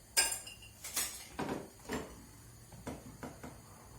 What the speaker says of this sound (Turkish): bu şekilde karıştıra karıştıra karıştıra karıştıra nişastalı sosumu sütlacıma koyuyorum